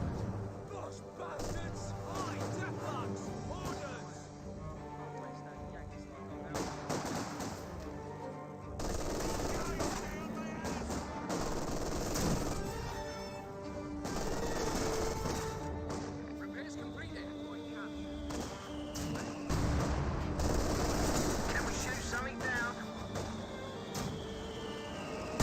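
Machine gun fire in Company of Heroes 2 rattles in steady, sustained bursts amid a busy battle mix, moderately loud and continuing under a caster's ongoing commentary throughout.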